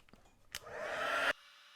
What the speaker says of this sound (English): So we'll just heat that with my heat tool.